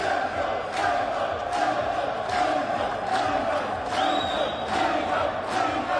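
Crowd at a darts match cheering and chanting a player's name in a rhythmic, repeated pattern, a loud sustained roar with regular pulses throughout.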